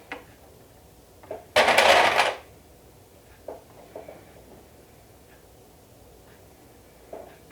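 A cover stitch sewing machine runs in one short, loud burst of rapid stitching, surrounded by quiet handling clicks and taps on a table.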